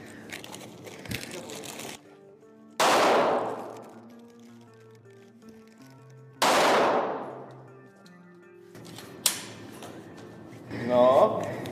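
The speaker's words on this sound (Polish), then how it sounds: "Strzeliłem bez kompensatora." Two loud Canik pistol shots fired without a compensator at a steel target, each a sharp crack with a long decaying echo, separated by a few seconds of quiet.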